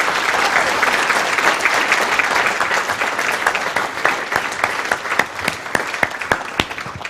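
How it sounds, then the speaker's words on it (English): Sustained applause rolls through the audience at the 2023 Queensland Australian of the Year Awards ceremony for an honoree, dense and steady, with a few sharper individual claps standing out near the end. "Another big round of applause for Melissa."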